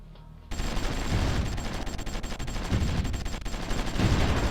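Battle in the strategy game Supreme Ruler Ultimate: continuous dense gunfire and fusillades with artillery rumbling underneath, loud and sustained without pause.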